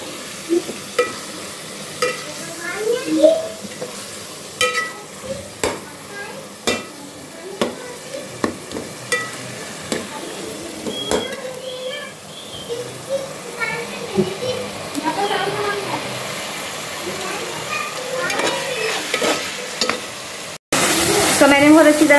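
Garlic ginger paste sizzles and fries in a pan while being stirred, with repeated scraping strokes over a steady hiss, close by; someone talks throughout and children can be heard in the background.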